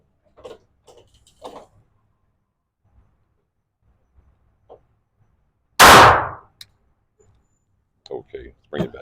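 A single loud, sharp gunshot from a Glock 21SF Gen 3 pistol at a shooting range rings out mid-clip, with brief talking before and after it.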